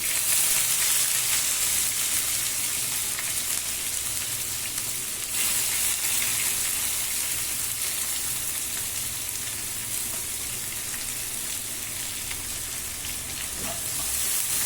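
Garlic and onion soften in hot oil in a pan for a South Indian bhindi gravy, giving a continuous bright sizzle that holds steady and close, with no talking.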